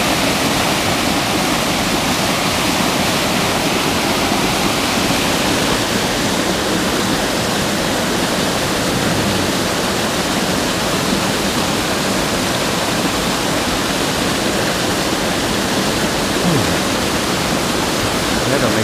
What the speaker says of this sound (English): next to being under the waterfall